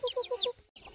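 Black chickens on a family farm give a quick run of close, soft clucks in a short burst, followed by a brief pause and a fainter cluck.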